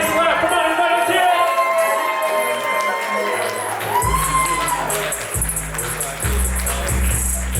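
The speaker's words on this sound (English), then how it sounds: "Let's get a nice clap." Wedding guests at a reception cheer, whoop and shout as a couple is introduced, a loud crowd sound with music running underneath throughout.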